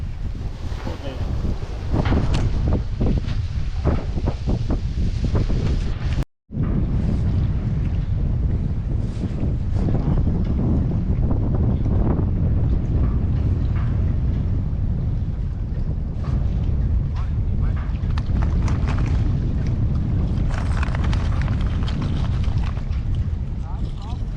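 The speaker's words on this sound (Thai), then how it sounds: "รู้สึกว่าลมมันจะแรงแรง" Strong wind buffets the microphone at a reservoir during a fishing and camping trip, a loud, continuous rumbling roar with gusty swells and one brief dropout, while faint speech is mixed in underneath.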